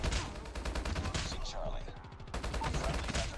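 Rapid automatic gunfire from the mobile shooter Call of Duty Mobile, with dense bursts of shots that briefly let up in the middle before resuming, loud and close throughout.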